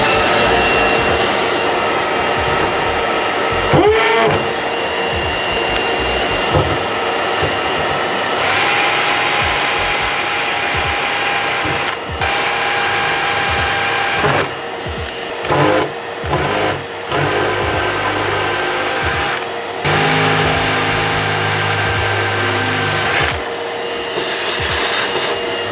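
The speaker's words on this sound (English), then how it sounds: "That's what we've got to drill out to 17mm" A stepped drill bit enlarges a hole to 17mm for a rivet, a loud continuous whining drone running for about 25 seconds with brief pauses and pitch changes as the bit cuts.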